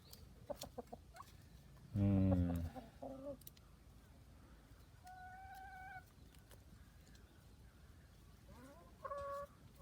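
Backyard chickens cluck and squawk while pecking at fresh lettuce, with a loud burst of fowl calls near the start and scattered softer clucks and short cries through the rest, close by.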